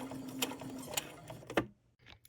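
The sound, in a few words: sewing machine stitching along a line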